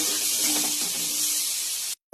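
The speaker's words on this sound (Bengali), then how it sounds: "আলুটা ভেজে নেব লাল লাল করে।" Potatoes frying in hot oil in a pan for a Bengali fish curry, giving a steady, loud, bright sizzling hiss that holds evenly for about two seconds and then stops abruptly.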